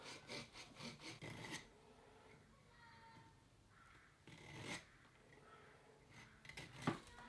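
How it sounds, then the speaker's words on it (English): Hand saw rasping through a small Fuji cherry bonsai branch, a few close back-and-forth strokes at the start, a pause, then another short burst of sawing ending in a sharp snap. "I'm going to cut this bit off here. I'm using the saw again because I don't want to damage my cutters."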